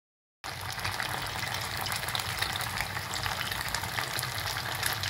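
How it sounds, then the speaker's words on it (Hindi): Fish pieces lightly coated in cornflour fry in hot oil in a pan, a loud, steady, dense sizzle that starts abruptly and continues unbroken, with no talking. "थोड़ी सी मेहनत के बाद फिश हमारी अच्छे से फ्राई हो चुकी है"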